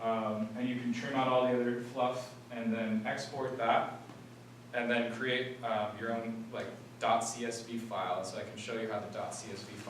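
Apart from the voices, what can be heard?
No everyday noise stands out behind the speech.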